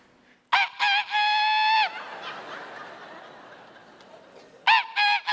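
A stand-up comedian on stage at a comedy gala imitates a rooster crowing at dawn, a loud drawn-out vocal crow followed by audience laughter, then another short crow burst.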